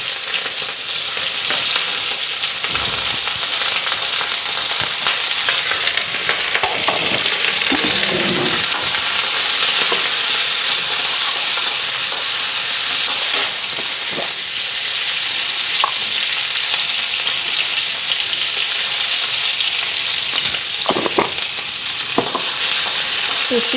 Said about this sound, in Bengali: ভাজা করুন না হালকাই ভাজা করুন